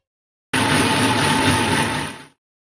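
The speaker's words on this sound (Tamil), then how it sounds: "இப்போ இதை ஜாரில் போட்டு நல்லா மைய அரைச்சி எடுத்துக்கணும்" A mixer grinder jar whirs loud and steady while grinding roasted coriander masala paste for a country-style fish curry, starting abruptly and cutting off after about two seconds.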